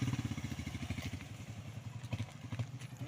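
Motorcycles of arriving riders near a riverside spot, a faint rapid engine putter with a steady pulsing rhythm heard alone at a distance.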